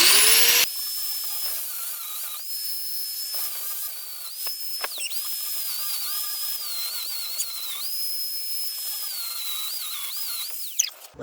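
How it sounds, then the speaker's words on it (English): Angle grinder cutting steel leaf spring brackets on a 1997 Ford Ranger truck, a loud, steady high-pitched whine with brief dips and pitch shifts as it bites into the metal, running almost continuously with no talk. "Grinder."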